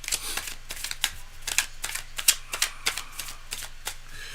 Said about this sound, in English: Let me just shuffle a little bit more.